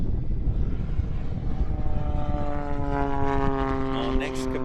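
A Cap 232 aerobatic plane with a wooden fuselage and a six-cylinder Lycoming engine takes off at an aerobatics championship, its propeller drone rising steadily in pitch, with a commentator talking over it.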